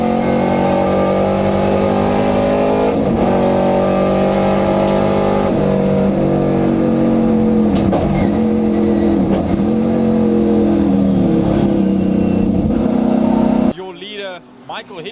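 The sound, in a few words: race cars accelerating past, including Porsche, Capri and Mustang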